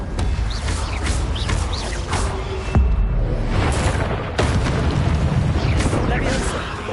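Incendio fire spell blasts erupt in Hogwarts Legacy, loud roaring bursts and booms layered with crackling combat effects, continuous and close, while a voice shouts over them.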